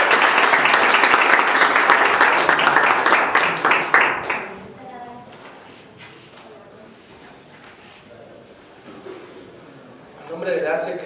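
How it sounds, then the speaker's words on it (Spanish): Applause from a conference audience at a presentation on social development law, dense clapping for about four seconds that fades out into quieter room sound and a few faint voices. "Le pido un aplauso a todos para..."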